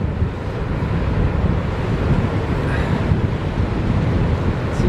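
Surf rolls onto a beach as a boat waits for the water to wash in, a loud broad rush of waves mixed with heavy wind buffeting the microphone for the whole stretch.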